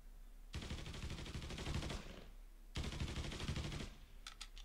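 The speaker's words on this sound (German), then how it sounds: "Wo schießt denn der bitte?" Two long bursts of rapid automatic gunfire from the video game Mafia 3, loud and sustained, separated by a brief pause, with no talking over them.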